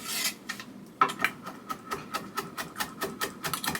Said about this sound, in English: You're probably wondering what herbs I'm chopping up.